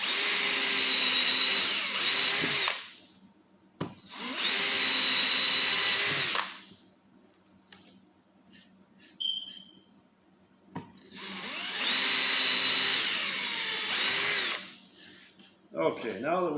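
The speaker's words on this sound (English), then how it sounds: "I'm going to drill a pilot hole for each one of them" A power drill whines in three long bursts, each a few seconds, drilling pilot holes, separated by pauses and faint clicks, loud and close.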